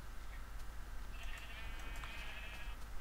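Sheep bleating inside a multiplayer survival farming video game, a faint drawn-out bleat over a low background hum, with no talk.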